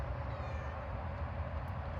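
Cat meows once in a short, faint call over a low, rumbling background hum.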